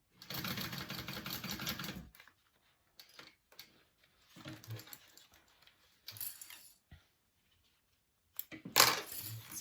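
Sewing machine topstitching a pressed seam on a convertible fabric bag: a steady two-second mechanical whirring run, then brief stop-start stitching bursts and soft handling clicks, close and moderately quiet.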